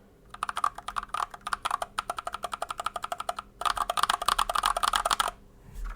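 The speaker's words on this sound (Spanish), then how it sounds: "Lo voy a teclear un poco fuerte para que veáis." Fast, hard typing on a mechanical keyboard fitted with Feker Holy Panda tactile switches, crisp clacks in quick bursts with a brief pause partway through, close and alone.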